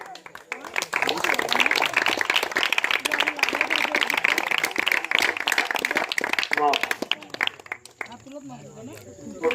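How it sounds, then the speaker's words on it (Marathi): Applause at a felicitation ceremony for a village cricket club in Konkan, loud sustained clapping from a crowd for most of the stretch, mixed with talk and shouting, then thinning out near the end. "सर्वांनी जोरदार टाळ्या वाजवायच्या आहेत"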